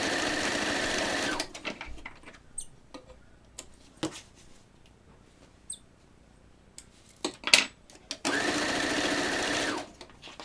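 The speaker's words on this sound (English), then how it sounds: "So let's sew these 2 and free the last row." Sewing machine stitching quilt pattern pieces in two loud continuous runs at the start and end, with quiet handling clicks and taps between them.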